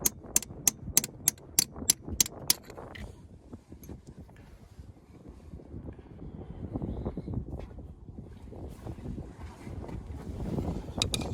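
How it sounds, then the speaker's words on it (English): Outdoor wind gusting against the microphone as it picks up during a New Holland front crank seal repair, a steady low rumble and buffeting that rises toward the end, after a few sharp clicks at the start. "Wind's kind of picking up here."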